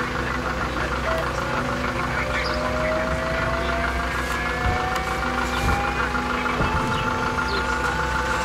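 A Westpac rescue helicopter drones steadily at a beach rescue scene, a continuous engine and rotor rumble with a rising whine, with faint voices and activity underneath.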